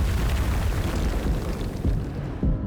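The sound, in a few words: explosion sound effect in a movie trailer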